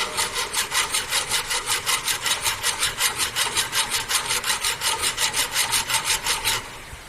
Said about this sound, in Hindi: फिनिशिंग करने के लिए हम ये ड्राप फाइलिंग करते हैं।